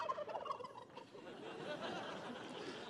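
Turkeys gobble at a Thanksgiving turkey pardon, a quick burst of warbling calls followed by a murmuring crowd, fairly faint and slightly distant.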